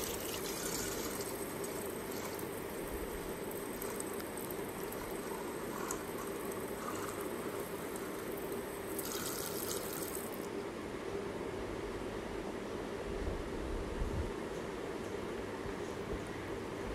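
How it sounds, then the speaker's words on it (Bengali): Water runs steadily into a small metal pot for a household prayer ritual, producing a continuous close rushing and splashing that fills the whole stretch without pause and with no voices. "আমি এই ঘটিটাতে এবার জল ভরবো।"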